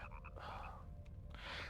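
Frogs croak in the Nightmare Before Christmas: Oogie's Revenge video game, a few short repeated croaks up close over a steady low game-music drone, with no one talking.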